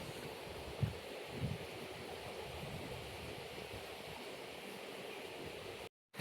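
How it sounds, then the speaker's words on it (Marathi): A heavy waterfall in forested hills at the Pitalkhora caves sends out a steady broadband rush of falling water, continuous and fairly loud, with wind buffeting the microphone and a brief dropout near the end. "एकदम भारी आहे धबधबा. पाणी एकदम भारी येते वरून."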